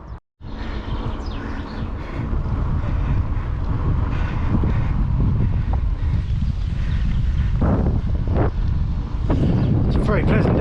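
Steady wind roars and buffets across the microphone throughout, loud and continuous, while riding a bicycle outdoors on a breezy sunny day, with only a brief dropout near the start.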